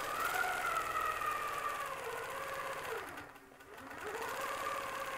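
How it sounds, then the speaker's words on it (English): A longarm sewing machine stitches steadily with a Westalee clamshell ruler, its motor whirring close and rising and falling in pitch, dipping briefly before picking back up. "I'll just sew one more."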